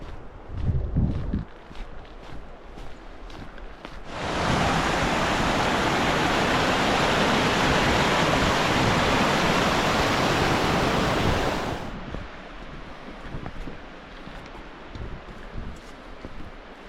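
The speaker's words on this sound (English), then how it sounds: "There's that nice waterfall there." A waterfall on the Reed Lakes trail roars as a dense, loud, steady rush for about eight seconds, with quieter outdoor ambience on either side.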